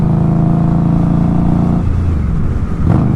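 Dallas road traffic heard from inside a car, a steady loud engine and road rumble that shifts tone partway through, with no talk.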